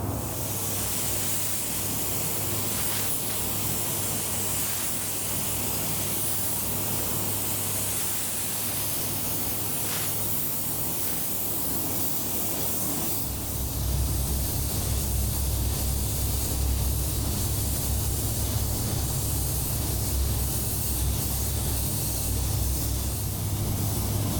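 A spray gun applies a 2-to-1 clear coat over wheels, producing a steady, loud airy hiss that runs continuously, its tone shifting partway through.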